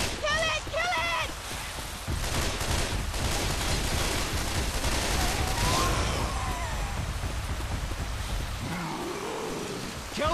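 Sustained gunfire aimed at the Tank in Left 4 Dead 2, a dense, continuous rattle of shots blended with chaotic game noise and voices shouting over it.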